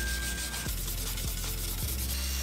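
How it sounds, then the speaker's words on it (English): A wire brush accessory spun by a hand drill scours rust from brake rotors, a steady loud abrasive scratching with a few rhythmic passes and a constant motor whine, no voices. "So I took a wire brush accessory and my hand drill and I went at it."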